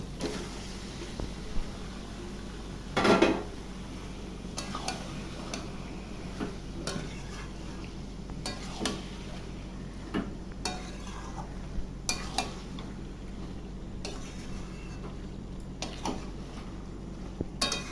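Meat tossed into spiced oil in a pan on a gas flame: a soft background sizzle with intermittent scraping and clinking stirring strokes, one louder clatter early on, close by and without talk.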